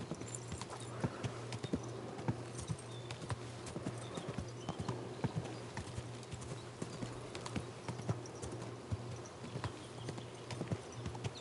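Horse hooves clip-clop steadily in the Kingdom Come Deliverance 2 video game, an even walking rhythm of sharp knocks over a low ambient hum, with no talking.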